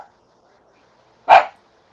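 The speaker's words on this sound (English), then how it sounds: "Is that dog barking on my end or somewhere else?" A dog gives a single sharp bark, loud and clear against near silence.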